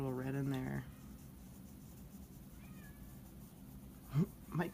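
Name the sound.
cat meowing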